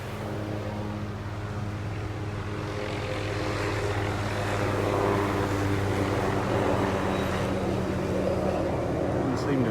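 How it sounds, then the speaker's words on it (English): A helicopter passes over a beach in North Naples, Florida, its engine a loud, continuous droning hum that swells slightly louder as it goes. "That noisy helicopter in the background."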